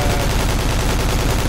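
Sustained automatic gunfire in the military shooter game Project Reality, a dense, loud rattle of rapid shots with no pause.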